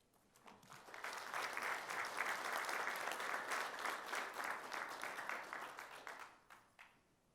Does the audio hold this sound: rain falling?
no